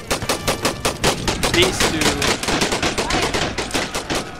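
Dense, rapid rifle volleys and booming canister artillery crackle without pause through a video game battle of the Anglo-Zulu War at iNyezane, loud and close, with bursts overlapping in a steady barrage.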